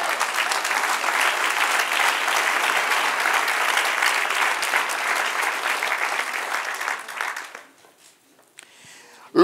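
Steady applause from a church congregation honoring the Lord during a pastor's Old Testament history class, loud and sustained for about seven seconds before fading away, with faint voices afterward.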